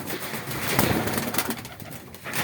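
Turkmen pigeons at a breeder's coo softly and repeatedly amid a busy, hissy outdoor background, the calls blending together at moderate distance.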